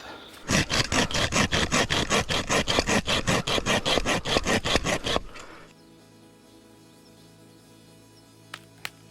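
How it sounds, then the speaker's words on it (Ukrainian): A hand saw cuts through a rotten, crumbly piece of wood in the forest, a fast run of about twenty-five rasping strokes close by, then stopping for quiet outdoor ambience with a couple of faint clicks. "Буду тут пиляти."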